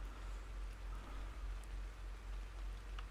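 Steady rain in the video game ARK: Survival Evolved patters and hisses evenly throughout, soft and constant, with a low rumble underneath and no voices.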